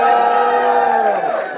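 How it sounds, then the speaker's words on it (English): A convention crowd at a Wizard World Madison panel cheers and whoops loudly and continuously, a dense wash of many voices sustained without pause. "we're going to need lots of cheering"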